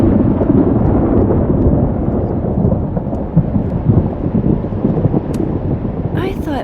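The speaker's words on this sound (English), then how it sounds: "the storm's not so bad here" A thunderstorm in the video game Life is Strange Double Exposure rolls as a steady, heavy rumble with wind and rain texture, continuous and fairly loud throughout, with a faint higher chirping near the end.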